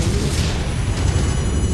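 Missile strikes from the MechWarrior game, an Orion mech under fire, land as a loud, continuous low rumbling boom with dense crackling debris, sustained without pause and with no talk over it.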